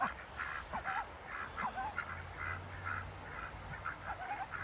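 Farm ducks quack and honk in a busy flock, repeated nasal calls overlapping at moderate distance over a steady outdoor background, with no one speaking.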